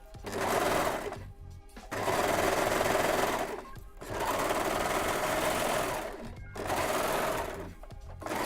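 A sewing machine stitches fabric from an old duvet cover into a T-shirt, running in three or four steady buzzing bursts with short pauses between them, close and clear with no talk.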